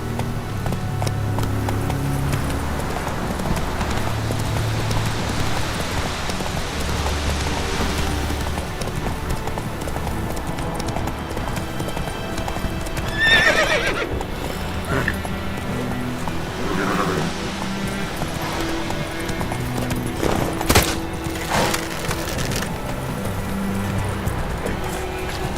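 Roach the horse galloping in The Witcher 3 video game, hooves clip-clopping in a steady run over continuous game ambience and music, with a brief louder thud near the middle.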